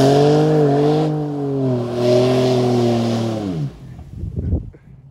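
A car engine revs loudly and steadily at a Petro-Canada car wash in the evening, its pitch climbing and holding for several seconds before cutting off abruptly, followed by softer splashing and rumbling.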